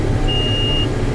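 Hay baler monitor in a tractor cab giving a single sustained electronic beep over a loud, steady engine rumble.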